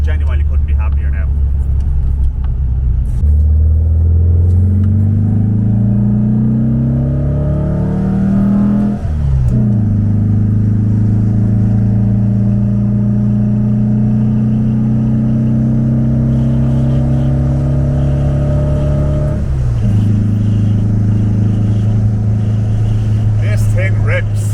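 A 1974 VW Beetle with a performance engine accelerating hard uphill, loud close engine drone rising in pitch through the gears, with clear shift breaks and a steady road roar underneath.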